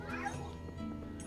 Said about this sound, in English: Let's see if we can find the one and only Polter Kitty.